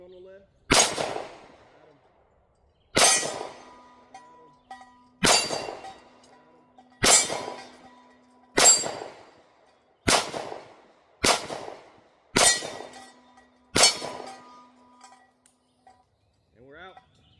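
Nine sharp shots from a Canik MC9 Prime pistol, each followed by a ringing metallic clang off steel targets, spaced irregularly at close range with a brief voice near the end.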